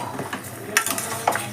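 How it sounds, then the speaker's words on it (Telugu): Ginger-garlic paste, turmeric and salt are mixed into chicken for a chicken fry. Soft wet squelching and stirring sounds come from close by, with a couple of sharp clinks against the bowl. "అల్లం వెల్లుల్లి పేస్ట్ మంచిగా కలుపుకోవడం"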